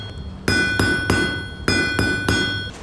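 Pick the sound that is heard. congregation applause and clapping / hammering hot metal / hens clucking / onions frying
hammering hot metal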